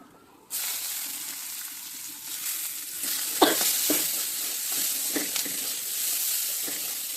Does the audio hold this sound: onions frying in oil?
yes